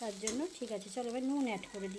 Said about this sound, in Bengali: পোস্ত বাটাটাকে আমি একটু নাড়ি সারি নেবো